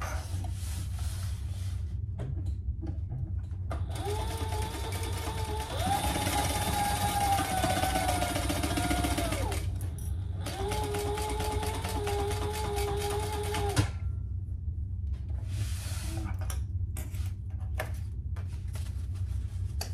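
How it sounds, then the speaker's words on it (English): A sewing machine stitches down the sides of folded fabric using Tex 70 thread, a steady mechanical whir running in two bursts of several seconds each, with quieter motor hum between and after. "fold this over and sew down the sides"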